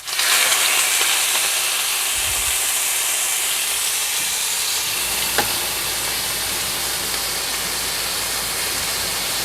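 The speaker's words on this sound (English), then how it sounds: "I dropped the chicken in and away from me so it doesn't splash up." Chicken pieces dropped into hot oil in a skillet for a honey lime chicken dinner, setting off a loud, steady sizzle and hiss that fills the whole stretch close by, with a brief clink partway through.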